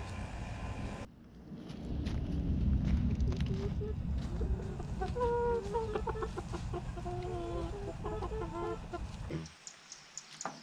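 Hens cluck and murmur up close in a series of short, broken calls over a rough, noisy background, with rustling and handling sounds, as unfed chickens are handled before culling.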